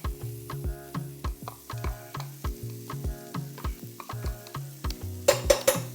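Garlic sizzles in a frying pan of shrimp and vegetables while a utensil stirs and knocks against the pan in a steady rhythm, close and fairly loud, with a brief burst of harsher hissing near the end.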